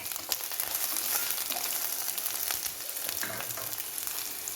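Ingredients fry in hot oil for sambar, a dense continuous sizzle with scattered crackles and faint stirring scrapes, close and steady with no voices.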